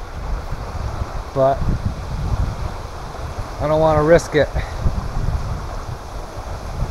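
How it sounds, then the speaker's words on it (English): Wind gusts at a lakeshore campsite in the woods, a steady broadband rush through the whole stretch with someone speaking over it at times. "It's a little too windy for the drone"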